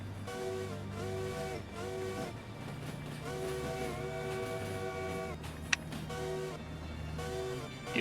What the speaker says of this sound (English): Using the keybind for the whistle, so you never get a good whistle that way because of the physics